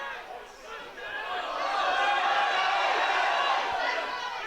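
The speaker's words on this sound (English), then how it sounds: "Crowd getting a little bit excited" Rugby union crowd at a Hawick versus Ayr league match growing louder and more excited, a broad swell of distant cheering and murmuring that rises after the first second and holds steady.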